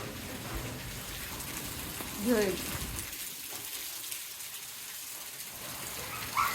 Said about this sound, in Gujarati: અત્યારે છે ને ધોધમાર વરસાદ ચાલુ થઈ ગયો છે